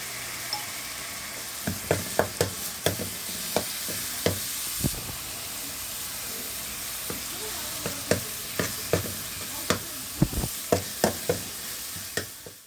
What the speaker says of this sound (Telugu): ఆయిల్ అయితే వేసి మసాలా అయితే ఫ్రై చేసుకుంటున్నాను